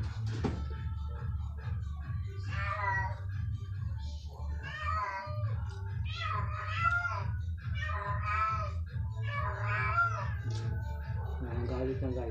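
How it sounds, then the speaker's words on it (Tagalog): An angry domestic cat meows repeatedly and insistently, a steady run of loud, strained, drawn-out cries close by over a constant low hum. "Galit na yung pusa namin."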